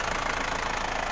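A 2002 Isuzu Panther Touring engine idles steadily with a close, even mechanical rumble and faint rattling, continuous throughout and with no voices.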